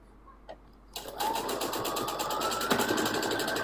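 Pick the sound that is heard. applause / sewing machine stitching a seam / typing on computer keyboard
sewing machine stitching a seam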